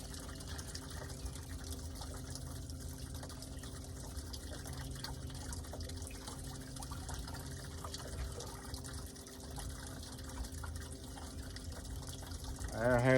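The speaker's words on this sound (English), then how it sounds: "They moving that water from one lake to the other." Water is pumped from one lake to another, giving a continuous faint rushing and gurgling flow with a low mechanical hum under it, steady throughout in an outdoor setting.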